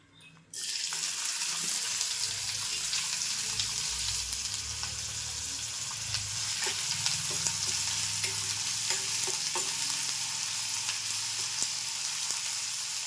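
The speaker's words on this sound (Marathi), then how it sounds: "आता मी फोडणीमध्ये कांदा टाकणार आहे" Finely chopped onion hits hot tempering oil with a sudden loud sizzle that keeps crackling steadily, with occasional stirring scrapes in the pan.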